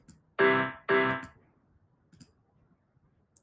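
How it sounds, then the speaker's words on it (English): Two synthesized piano notes struck in quick succession, each ringing briefly and fading, followed by near silence with faint clicks. "Now it's the sound of a piano."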